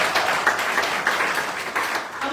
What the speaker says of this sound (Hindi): हाँ बजाइए, ताली बजाइए।